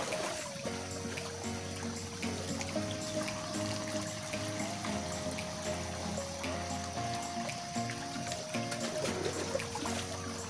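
Water pours steadily into a sprayer tank for an insecticide mix for chili plants, a continuous close trickling rush that stays even throughout, with a faint background tone.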